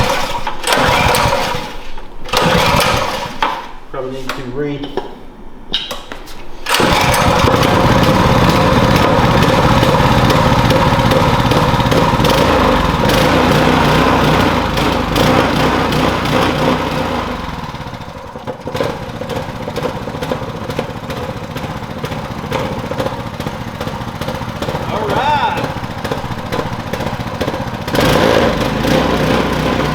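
A Duromax XP7HPX 212cc dual fuel go-kart engine, set on the floor and meant to run on propane, sputters through a few short bursts, then settles into a loud, steady, close buzzing roar; a voice speaks briefly.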